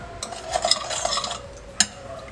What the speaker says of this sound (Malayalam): ഒരു തവിയോ എന്തെങ്കിലും വെച്ചിട്ട് ഇതുപോലെ ഒന്ന് ഉടച്ചു കൊടുത്താൽ മതിയാവും